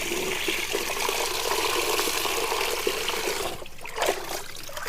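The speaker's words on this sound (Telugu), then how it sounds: "కొన్ని నీళ్లు పట్టి మొక్కలకైతే ఇచ్చేద్దామండి" Water running and splashing into a container being filled to water garden plants, a steady close rushing trickle that drops off near the end.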